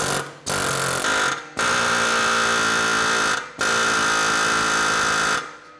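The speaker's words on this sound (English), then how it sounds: "Let's see if the air hammer can do anything." An air hammer works on the thrust arm of a tired V8 BMW E70 X5 SUV, a loud, close, rapid metallic rattle running in long bursts with brief pauses between them.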